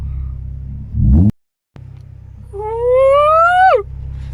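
A Nissan 350Z recovering from limp mode sits idling with a low rumble, then a brief burst and a sudden cut, and finally its engine revs up in a rising whine as it pulls away.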